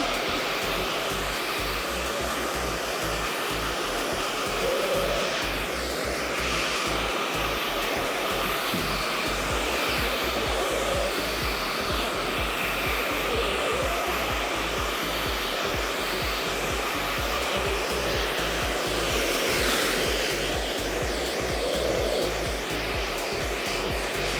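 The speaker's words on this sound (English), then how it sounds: "So we're using 3 blow dryers." Three hair blow dryers run at once during a keratin treatment in a salon, a loud, steady, continuous roar of motors and rushing air, close by and unbroken throughout, with no talking.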